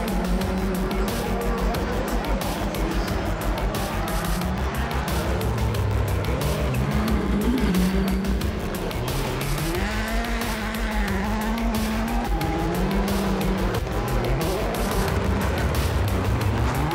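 Rallycross race cars competing at a dusty WRX 2019 round, engines roaring steadily and loudly throughout with shifting revs and occasional tire squeal, the racket continuous and close.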